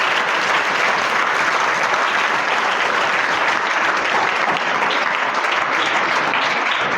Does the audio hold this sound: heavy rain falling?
no